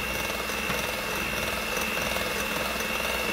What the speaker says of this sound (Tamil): முட்டையும் சீனியும் போட்டு நல்லா பீட் பண்ணணும்.